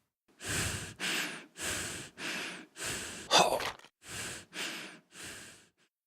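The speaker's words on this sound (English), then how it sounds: "adding a ducking effect that stops the breathing when the character jumps." Character breathing effect from a video game: a rhythmic series of about ten breaths, alternating inhales and exhales in steady, evenly spaced bursts, with one harsher, gaspier breath midway. Close and clear, no talk.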